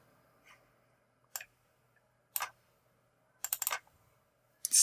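Sharp mouse clicks, including double clicks, land in a quiet room while someone works in music software. They come in short bursts separated by silence.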